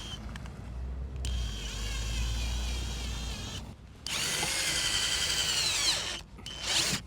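A power drill drives screws into the molding of a 2004 Golf 4 1.9 TDI, whirring in several loud bursts of a few seconds each, separated by short pauses, with some low background noise.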